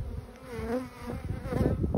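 Honeybees buzz steadily close by at an open hive while a beekeeper searches the frames for the queen, a dense, wavering hum with shifting pitch and occasional louder swells from nearby bees.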